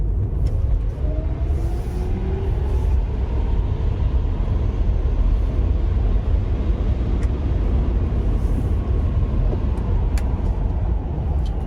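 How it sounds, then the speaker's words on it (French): Tyre roar from an electric car on winter tyres cruising on a grippy paved road, a steady broadband rumble with no engine note, continuous and fairly loud from start to finish. "On entend un petit peu les pneus là."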